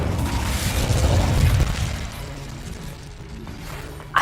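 The Incendio fire spell is cast in a Harry Potter video game, producing a loud, roaring whoosh of flame with a booming low rumble that fades over a few seconds, ending in a brief sharp pop.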